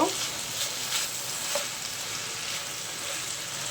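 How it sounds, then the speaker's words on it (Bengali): Mixed vegetables fry in hot oil in a pan for basmati fried rice, giving a dense, even sizzle that holds close and steady throughout, with a few faint stirring knocks. "তো আমি এখানে তেলে সবজিগুলো সব দিয়ে দিয়েছি।"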